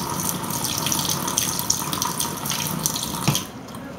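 A makeup brush is rinsed under a running bathroom tap, giving a loud, steady stream of water with small splashes and clinks, and no talking.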